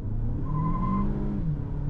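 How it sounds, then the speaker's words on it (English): A 2024 Chery Tiggo 7 Pro SUV pulling away at half throttle, its engine note rising steadily in pitch as it accelerates, heard from inside the cabin with a continuous moderate drone. "I'll floor it, or not even floor it, half throttle."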